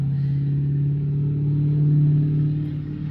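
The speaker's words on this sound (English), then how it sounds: "Could the mufflers please pipe it down?" Loud car mufflers rumble steadily nearby in a deep, continuous drone that swells slightly without dropping away, with no talking.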